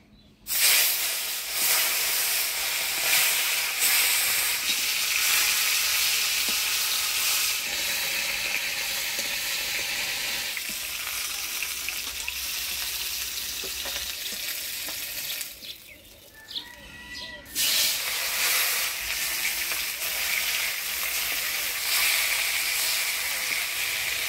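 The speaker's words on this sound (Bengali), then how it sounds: "মাছের ঝোলের জন্য মাছগুলো ভেজে নিব।" Fish pieces frying in hot oil before going into a Bengali fish curry, giving a loud, steady sizzle and hiss that briefly drops away midway, then surges back.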